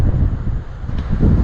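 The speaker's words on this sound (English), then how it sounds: "it's that windy up here" Wind gusting across a hilltop on a range, a steady low rumbling buffet against the microphone with gusts swelling and easing, moderately loud and close.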